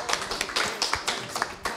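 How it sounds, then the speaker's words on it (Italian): An audience claps in scattered, uneven bursts for nearly two seconds, moderately loud and close, with no voices over it. "Applauso per favore."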